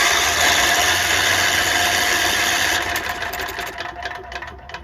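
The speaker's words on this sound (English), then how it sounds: "turn on this thing and see if it turns over" A Tecumseh HH60 6 hp horizontal-shaft tiller engine spins on its electric starter, a loud steady mechanical whir and rattle that carries on for a few seconds, then weakens and turns uneven without firing.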